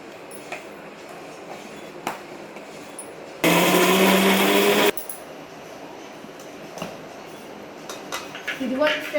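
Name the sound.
mixer grinder blending homemade hair pack paste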